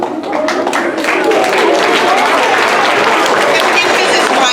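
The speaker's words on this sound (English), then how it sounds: "a big hand of applause for being our educator" At a school spelling bee, a room full of people breaks into applause, clapping building quickly and holding dense and loud, with crowd murmur and some speech mixed in.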